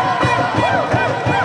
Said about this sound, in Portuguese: A torcida foi à loucura bem diante de nós com o gol de Bruno